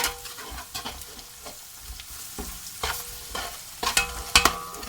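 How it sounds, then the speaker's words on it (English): Turmeric powder is stirred into chicken curry frying in a pan, with repeated scraping and clattering strokes of a spoon over a steady sizzle, no talk. "I'm going to add in my turmeric powder, and I'm going to give that a stir."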